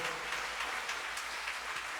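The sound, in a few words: applause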